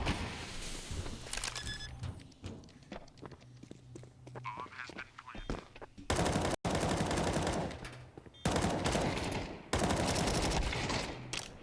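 Bursts of Counter-Strike gunfire during an ESL Pro League esports match, with rapid automatic volleys and single shots crackling loud and close, alternating with quieter stretches of footsteps and game ambience under commentary.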